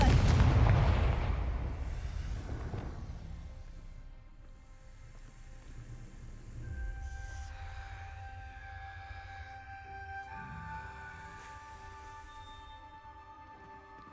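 Confringo fire spell in the video game Hogwarts Legacy erupts in a loud, booming explosion at the start, then fades into a low rumble with a sustained tonal hum and soft chimes, no voices.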